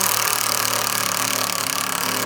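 Impact wrench tightening suspension bushing bolts underneath a Volvo XC70 T6 wagon, a loud continuous rattling hammer burst lasting about two seconds before cutting off.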